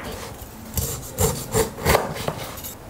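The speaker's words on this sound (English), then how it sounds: "Trim off the thick fibrous skin." A knife cuts away the thick, fibrous skin of a whole pineapple, giving several short rasping, scraping strokes in an uneven rhythm, close and moderately loud with quiet gaps between them.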